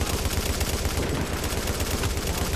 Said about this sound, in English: so I'm just gonna keep on shooting forever